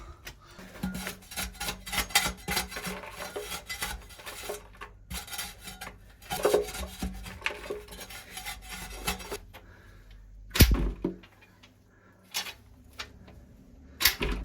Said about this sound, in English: Just along the back there's a little ridge of clay. See? This will just scrape that off.